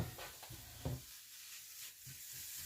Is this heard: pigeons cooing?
no